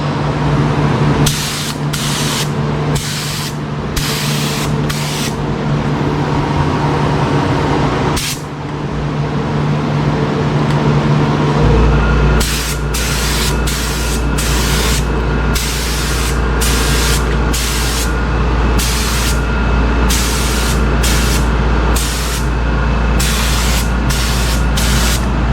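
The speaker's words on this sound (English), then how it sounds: "Now this will be the second coat for this side." A spray gun lays a second coat of paint on a car panel while repairing cracked paint. Close, loud hissing runs in repeated bursts, with a steady low compressor hum beneath.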